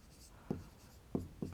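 Chalk taps and scratches on a classroom board as a teacher writes, three short distinct strokes close by and fairly quiet.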